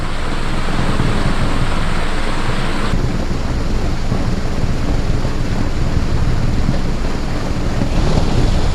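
Strong wind batters the microphone beside a pond on a cold day of panfish fishing, a loud continuous roaring rush that fills the whole clip with no voices.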